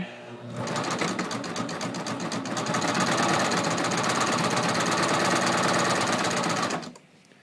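A Baby Lock Ovation coverstitch machine sews a triple cover hem on a fabric neckline, running in a fast, continuous mechanical chatter for about six seconds before stopping abruptly.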